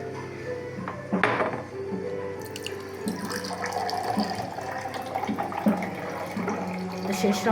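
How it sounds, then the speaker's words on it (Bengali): Sharbat pours for an iftar meal with trickling, splashing liquid and a few clinks of dishes and utensils close by. The sound comes in short uneven bursts and runs on without speech. "শরবত ঢালো এরকম"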